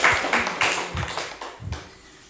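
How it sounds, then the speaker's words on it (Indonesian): Scattered, irregular hand claps from a school audience of parents and teachers, a handful of soft broadband bursts that quickly thin out and fade. "Tepuk tangan Bapak Ibu."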